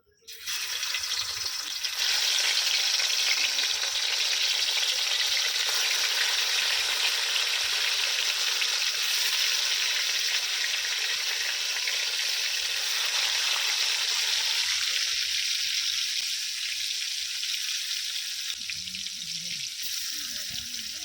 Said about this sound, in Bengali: তেলটা আমার গরম হয়ে গেছে এবারে আমি মাছগুলো দিয়ে দেবো